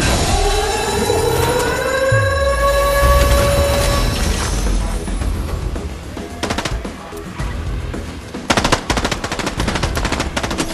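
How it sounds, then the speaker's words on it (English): Midas's drum gun firing in Fortnite, opening with rising game tones and then rapid bursts of automatic fire, loud and close, with sharp volleys toward the end and no talking. "I'll take Midas's drum gun any day of the week"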